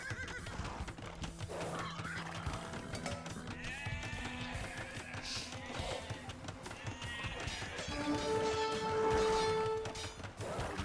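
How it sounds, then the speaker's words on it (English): Sheep bleat in Age of Empires II amid game sound effects, with clip-clop and horse-like calls, short tonal bleats rising over a busy, steady soundscape of battle and building noises. "Ooh, sheep."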